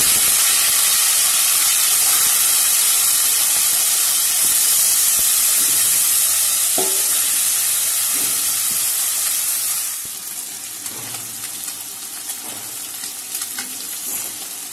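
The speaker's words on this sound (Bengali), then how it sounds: "মাছগুলো খুব হালকা ভাবে ভাজবো।" Small mourola fish fry lightly in hot oil in a village kitchen, a loud dense hiss and sizzle that drops off abruptly partway through, leaving quieter crackling and a few faint clinks.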